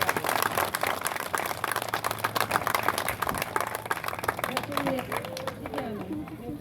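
Audience clapping at the official opening of a campsite, a dense steady patter of many hands with voices chattering over it, thinning slightly toward the end.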